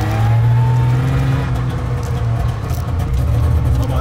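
Rough, buzzy two-stroke engine of a DKW Schnellaster van driving, a steady loud drone close by with a falling pitch early on and no talk over it.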